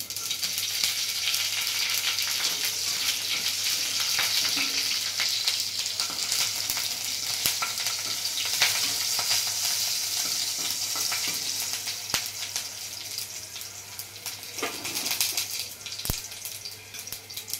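Green chillies frying in hot oil with crackling mustard seeds, a dense, continuous close sizzle with scattered sharp pops and spits throughout.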